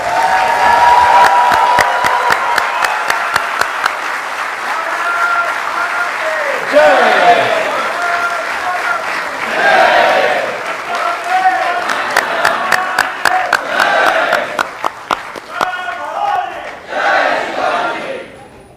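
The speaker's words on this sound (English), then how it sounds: "Can I please request everyone to stand up and give him a big round of applause as we welcome him." A standing crowd at an Indian community event in Brisbane applauds and cheers to welcome a guest, loud sustained clapping with shouts and whoops rising and falling, and claps dwindling briefly before surging again.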